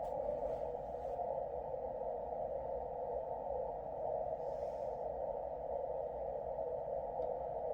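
An NCDXF international beacon comes in on 24930 kHz in the 12-metre band as a steady, unbroken radio tone over faint background static, heard alone without talk.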